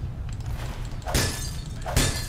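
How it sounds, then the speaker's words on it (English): A glass bottle shatters twice in a video game, two sharp, loud breaking crashes about a second apart over a low background rumble. "I'm breaking the glass of a bottle."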